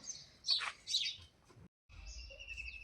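Birds feeding out in a field give bright, close chirps in a few quick bursts, then thinner, fainter calls continue after a brief silence.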